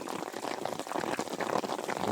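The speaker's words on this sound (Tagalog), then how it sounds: "Lakas ng ulan dito mga parkoy." Heavy rain pours steadily at an open fish pond, a dense, continuous hiss and patter close by with no talk over it.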